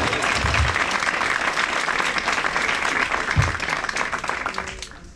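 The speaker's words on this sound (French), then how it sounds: "Après, vous pouvez vous applaudir." Graduates at an osteopathy college diploma ceremony applauding themselves, a sustained, even wash of many hands clapping that fades slightly at the end.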